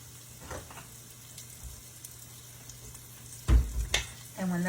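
Sliced kielbasa sausage and onions sautéing in a pan with garlic and onion powder: a soft, steady sizzle with a few louder stirring knocks and a brief voice at the end.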